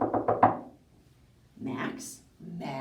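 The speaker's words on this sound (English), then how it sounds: "When there was a knock at the door" Three quick knocks on a door sound close together, then a voice begins talking during a read-aloud preschool story.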